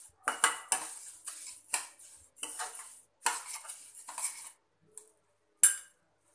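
A spoon scrapes and clinks against a pan while suji halwa is stirred over medium flame, in a series of uneven metallic strokes close by, with short pauses, then a few last isolated taps.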